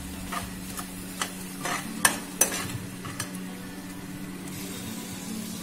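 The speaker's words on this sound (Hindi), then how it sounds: "हम इन्हें मिक्स कर लांगे चंगी तरह तड़के में।" Stirring and mixing in a sizzling tempering for desi-style noodles: a steady frying sizzle runs throughout while a spoon scrapes and clinks against the pan in irregular strokes, close by, with no one talking.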